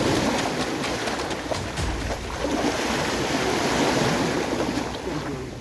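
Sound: sea waves at the seaside

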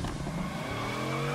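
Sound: brake stand tire squeal of a Bugatti car, from a video game

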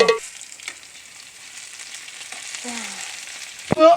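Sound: french fries frying in oil

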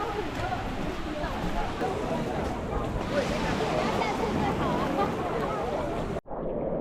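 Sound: strong ocean waves on a beach

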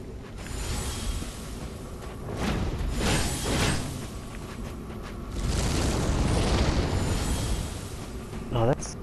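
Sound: firework-like fire spell explosion in Dark Souls III video game

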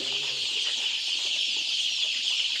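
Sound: chickens and chicks clucking

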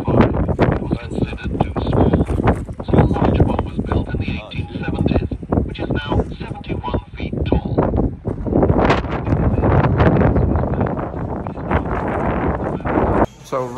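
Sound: strong wind on the coast

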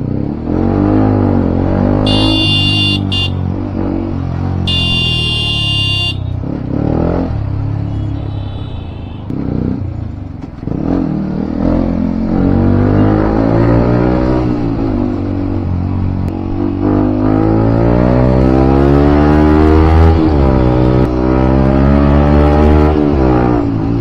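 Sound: heavy road traffic with cars, motorcycles and horns

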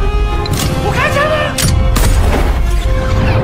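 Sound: gunshots

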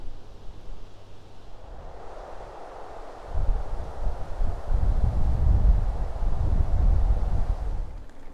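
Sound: strong wind

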